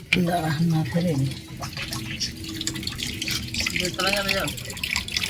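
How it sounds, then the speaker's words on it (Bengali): Water poured out onto the mouth of an outdoor drain at a home with a wood-fired stove, splashing and trickling beneath a person talking nearby. "এই তো জল ফেলতে ওই ড্রেনের মুখে ফেললাম"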